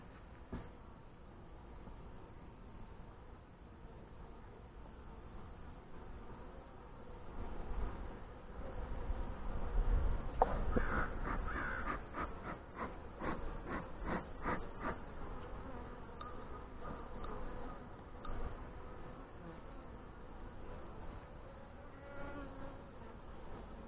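Honey bees buzzing around an open hive with Saskatraz queens on a hot day, a dense droning hum that swells and pulses in the middle, with close passing wingbeats over a steady colony drone.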